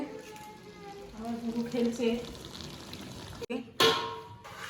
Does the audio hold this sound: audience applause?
no